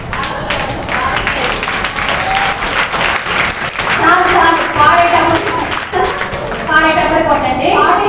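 Children clap along in a group during songs at a church vacation Bible school, a steady dense patter running throughout beneath singing and voices.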